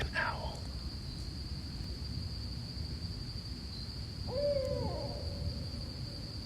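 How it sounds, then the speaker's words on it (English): A single owl call carries through a Florida night, a brief wavering hoot at moderate distance over a constant high insect buzz and soft background hiss. "It's almost like an owl."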